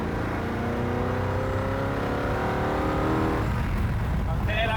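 A Koenigsegg CCX with a 900 hp supercharged engine accelerating on the Autobahn, a steady rising drone of engine harmonics heard from inside the car, continuous and fairly loud, then shifting near the end.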